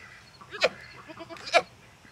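Two goats bleat, one short call and then another about a second later, fairly close in a quiet outdoor setting.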